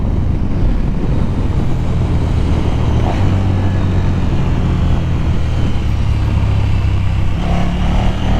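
A KTM 1290 Super Duke R motorcycle accelerates hard down a straight, its engine a loud, continuous close roar with heavy wind rush and no talking.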